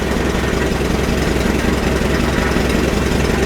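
An old Farmall tractor engine running after years of sitting, still half choked, chugging loudly and steadily close by.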